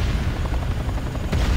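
Transport helicopter in the video game C&C Renegade, a continuous thudding rotor chop with low engine rumble, close and fairly loud, heard alone.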